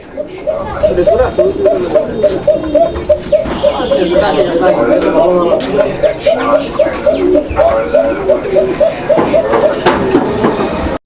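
Lahori Sirazi Coka pigeons at a sale coo in a steady, rhythmic series of throaty pulses, close and loud, while people talk over them.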